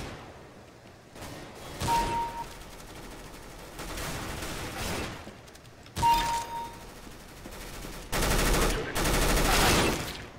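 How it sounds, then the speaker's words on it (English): Heavy machine gun fire in CS:GO Arms Race, loud sustained bursts separated by pauses, with whooshes and distant shots between volleys. "I don't like this heavy machine gun."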